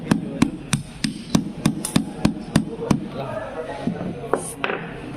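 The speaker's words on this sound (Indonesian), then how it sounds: "pakai kunci sok yang besar sekitar ukuran 20, pukul dengan menggunakan palu plastik" A plastic hammer strikes a large size-20 socket wrench during manual transaxle assembly, with around ten sharp, evenly paced knocks close by that then turn sparser and softer as some talk mixes in.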